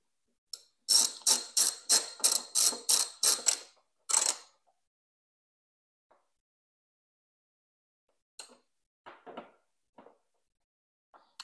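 A ratchet or tool tightens the tank bag mounting bolts on a BMW R1250RS motorcycle, giving a quick run of about eight loud, sharp clicks, then one more, and a few fainter clicks after a pause.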